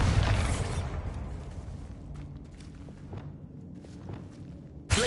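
Bombarda explosion spell from the wizarding game Hogwarts Legacy: a loud, heavy blast at the start that rumbles and fades, with scattered debris thuds after it and another sharp impact at the very end.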